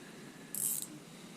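Okuma HSX-30 spinning reel mechanism turning freely, a brief faint whirring burst of about a quarter second standing out over quiet room hiss.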